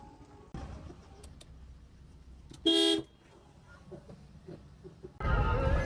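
A car horn gives one loud honk of roughly a third of a second, with a low engine rumble around it, as a car is brought out before heading to a haldi ceremony shoot; a louder engine or road roar swells at the end.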